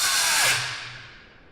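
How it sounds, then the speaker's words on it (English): An angle grinder with a new blade whines steadily as it cuts, its pitch sagging briefly as the blade bogs, then the sound tapers off over a second and a half. "my grinder wants to shut down really quick when you're cutting with it"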